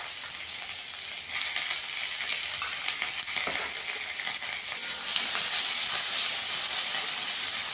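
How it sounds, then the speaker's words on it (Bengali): Prawns fry in a hot oiled pan with a loud, continuous sizzle and hiss, occasional stirring adding brief scrapes, the frying growing slightly louder toward the end with no talking. "চিংড়ি মাছটাকেও ভেজে নেবো"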